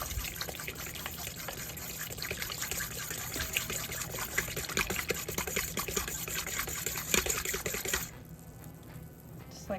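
A whisk stirring sourdough starter with oil and water in a bowl, a fast wet slosh and rattle that runs steadily, then quiets abruptly near the end.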